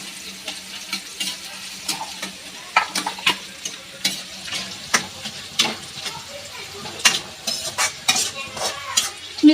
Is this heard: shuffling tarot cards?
no